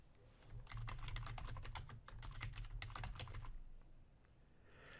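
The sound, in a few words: typing a password on a computer keyboard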